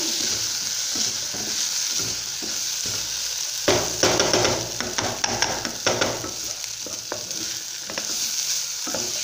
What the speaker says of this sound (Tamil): இப்படி செஞ்சுக்கிட்டே கிளறி விட்டுட்டே இருந்தீங்கன்னா எல்லாமே வந்துட்டு கலந்துரும்.